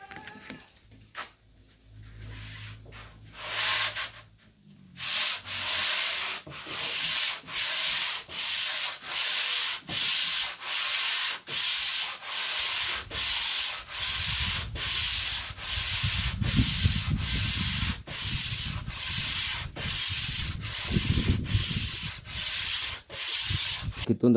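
Hand sanding a speaker box with 120 grit sandpaper, long even back-and-forth strokes in a steady rhythm, close and dry, with a few brief handling noises before the strokes begin.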